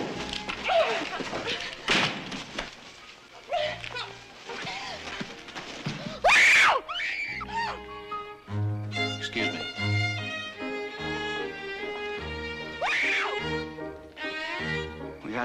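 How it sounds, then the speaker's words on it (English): A woman screams in a classic western TV drama, sharp loud bursts alternating with tense music, gasps, thuds and spoken dialogue between the outcries. "Stop screaming!"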